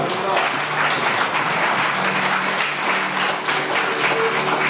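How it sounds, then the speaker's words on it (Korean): Wedding guests applaud as the groom greets his parents at a ceremony in Daegu, a steady round of clapping heard beneath a speaking voice and background music. "신랑 조차연 부모님께 인사 박수 부탁드리겠습니다"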